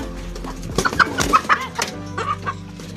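Heritage chickens, including Bicol Brown and Rhode Island, clucking close by in short, irregular bursts, with a few higher squawks mixed in over faint background noise.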